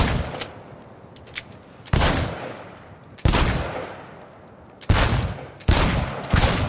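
Gunfire at a shooting range in the video game Cyberpunk 2077: a series of loud, sharp shots and short bursts ring out at irregular intervals, each followed by a decaying echo.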